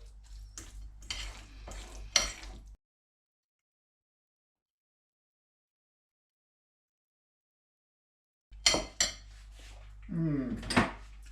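Mashed avocado mixed for guacamole in a bowl, with soft scraping and clinking of a utensil against the bowl in two bursts separated by several seconds of silence.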